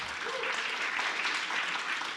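Faint, even applause from a conference audience, a soft continuous patter of many hands lasting a couple of seconds.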